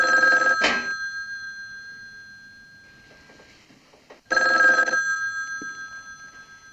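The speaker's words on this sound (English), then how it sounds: "then her phone rings twice" An old landline telephone bell rings loudly twice, each ring a harsh rattling burst with ringing decay, in the 1964 film Lady in a Cage.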